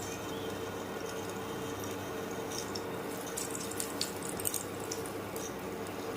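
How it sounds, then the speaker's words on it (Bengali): Black mustard seeds hitting hot oil for a raw mango chutney tempering give a continuous close hiss, broken by scattered small pops and crackles toward the latter half, with no talking. "তেলটা গরম হয়ে গেছে, এবার আমি কালো সরষা দিয়ে দিলাম।"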